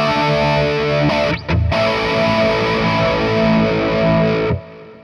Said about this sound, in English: We're using Amplitubes pedals in front of our actual real amp.